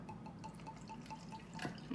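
Evan Williams bourbon poured into a mint julep glass, a faint, steady trickle with soft dripping tones, quiet and alone.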